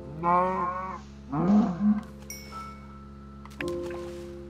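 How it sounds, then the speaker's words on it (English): A stray cow in Minecraft lets out several low, drawn-out moos in short bursts, close and clear, followed by softer game tones and a small thud. "Well, this is a stray cow, so I can kill this one."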